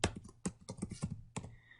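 A name typed on a computer keyboard, a short run of close, crisp key clicks in an uneven rhythm with a brief pause before a final few keystrokes.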